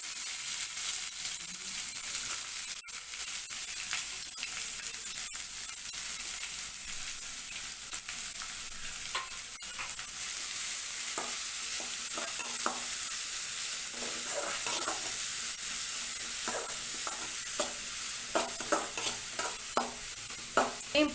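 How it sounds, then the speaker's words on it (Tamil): Mustard seeds, urad dal, curry leaves and onion fry in hot oil with a steady low sizzle, and scattered pops and crackles grow busier toward the end. "இப்போது நம்ம கடுகு, உளுத்தம்பருப்பு, கருவேப்பிலை, அப்புறம் வெங்காயம்."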